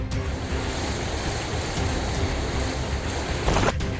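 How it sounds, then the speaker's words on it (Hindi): The Ganges in flood at Varanasi: swollen floodwater makes a loud, continuous rushing roar, steady and close, with a brief brighter surge near the end and no voices. "वाराणसी में गंगा का पानी तेजी से बढ़ रहा है।"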